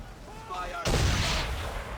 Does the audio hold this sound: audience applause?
no